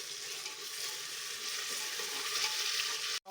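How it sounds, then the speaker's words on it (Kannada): Garlic ginger paste frying with onions in a pan gives a steady, close sizzle that hisses evenly throughout and cuts off abruptly at the very end. "ಹಸಿ ವಾಸನೆ ಹೋಗೋವರೆಗೂ ಸ್ವಲ್ಪ ಫ್ರೈ ಮಾಡ್ಕೊಳ್ಳೋಣ."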